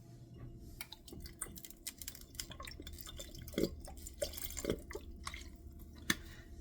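Soy sauce poured into a sauce mixture for pork dumplings gives a faint trickle with scattered drips and a few light kitchen clicks. It stays quiet and close, with no talking.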